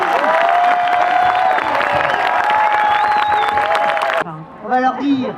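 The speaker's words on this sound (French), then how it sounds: "Vous pouvez vous applaudir" A crowd claps and cheers at the Martror festival in Saint-Hippolyte-du-Fort, 2025: a dense, steady roar of applause with a sustained tone running over it, cutting off abruptly into a voice speaking near the end.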